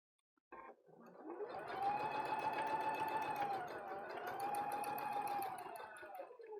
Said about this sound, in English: That little squishy is me sewing the pressure foot going over the Velcro strips.